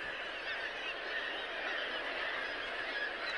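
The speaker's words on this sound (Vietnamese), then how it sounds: "Hải âu rụp cổ, mòng biển Sira là những loài phổ biến nhất." A seabird colony of kittiwakes and gulls in Norway calls in a dense, continuous chorus of overlapping cries, steady and moderately distant.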